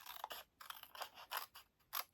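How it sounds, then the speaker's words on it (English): Scissors trimming cardstock for a handmade masculine birthday card, a run of quiet, crisp snips spaced irregularly, close up with no talking. "I'm going to trim it with my scissors."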